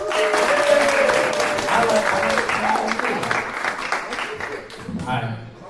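An audience at a school coding event claps and cheers for a few seconds. The applause swells, then fades, and a voice speaks over it.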